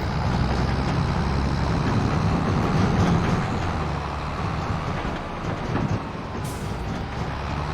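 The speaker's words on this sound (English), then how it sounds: "So we're gonna get Debo by the train." A train passes in the Farming Simulator 25 game at Riverbend Springs with a loud, steady rumble of rolling rail cars close by. The rumble eases slightly midway, and no voices are heard.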